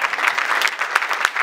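Audience applause in a hall at an anniversary evening event, a dense steady wash of many hands clapping close and full for a short burst, with no voices over it.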